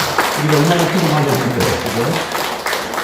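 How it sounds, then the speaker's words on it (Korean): A church congregation applauds to welcome back a returning member during a Sunday worship service, the clapping running under a voice speaking over it. "우리 박수로 환영합시다."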